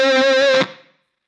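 A distorted electric guitar chord from a Fractal modeler rings out loud and sustained, then cuts off and trails away into a short small-room reverb tail.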